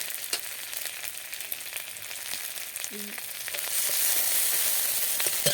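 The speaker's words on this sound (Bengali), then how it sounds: "পেঁয়াজটা হালকা করে ভাজা করে নিলাম, নিয়ে এবার দিলাম কাঁচা লঙ্কা" Onion and green chili sizzling and frying in hot oil, a steady crackling hiss that swells louder partway through, with no voices.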